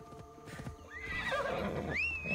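Horse in Assassin's Creed Odyssey whinnying loudly with rising, quavering neighs over rhythmic clip-clop of hooves, close and continuous with no voices.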